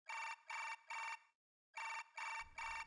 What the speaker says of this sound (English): Suddenly I heard the sound of a ringing phone.